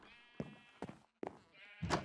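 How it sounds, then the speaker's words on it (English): Sheep bleating in the video game Minecraft, three short separate bleats with brief gaps between them, close and clear, with no talk over them. "They're all naked sheep at the minute, but looks good."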